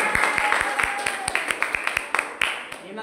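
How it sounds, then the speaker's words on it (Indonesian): Classroom audience applause rings out as a quick run of close, sharp hand claps in an irregular rhythm, with voices talking underneath. "Kita apresiasi dengan tepuk tangan."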